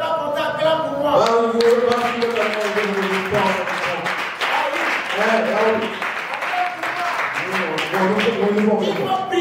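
A church congregation applauding during a pastor's sermon, sustained clapping across the whole stretch, mixed with voices, cheering and music-like tones, loud and close.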